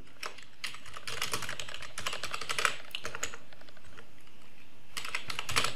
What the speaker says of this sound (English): So I can go over here and type in Adobe Illustrator right over here.